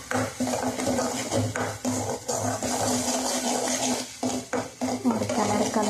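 A spoon mixes chilli powder into chickpea sundal in a metal pan, with repeated clanks and scrapes against the pan in an uneven rhythm, close and fairly loud.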